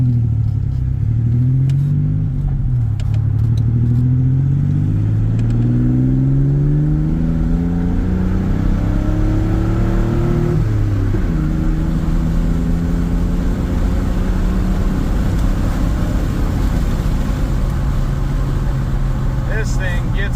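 A 1996 Chevy S10 pickup with a new exhaust accelerates through several rising gear pulls, its engine note climbing and dropping between shifts, heard from inside the cab with someone talking over it.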